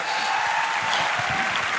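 An audience clapping at a Patna gathering where a speech is being given, a steady wash of many hands applauding together, sustained and fairly loud with no single voice standing out.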